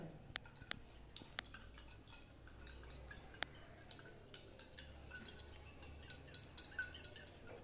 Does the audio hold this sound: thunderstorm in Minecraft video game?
no